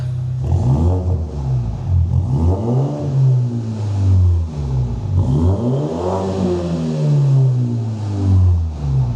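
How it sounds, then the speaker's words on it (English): A BMW 330e hybrid fitted with a quad exhaust is revved while parked, producing several loud swelling blips that rise and fall in pitch over a low, rumbling idle, heard close to the exhaust. "So go on, Carl, get a rev."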